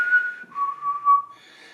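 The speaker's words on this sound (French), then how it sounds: "quand ça commence, tu as quelqu'un qui siffle." Whistling during a paranormal investigation: a clear, fairly close whistled phrase of a few sustained tones that shift in pitch, heard alone with no talking.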